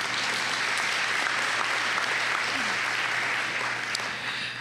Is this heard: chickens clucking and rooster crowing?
no